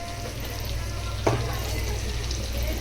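Masala frying in a pan for gongura curry, a steady sizzle with a brief stir or scrape partway through.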